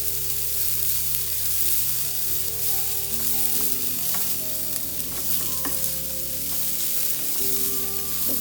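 Raw coarsely ground soya cutlet mixture sautés in a little oil in a pan, giving a steady close sizzle and frying hiss with intermittent scraping stirs from a spoon, with no talking.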